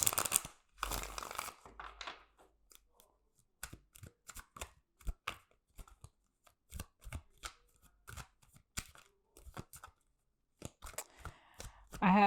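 Tarot cards being shuffled in quick bursts of crisp flicks and slaps, close up, with pauses between and faint voices now and then.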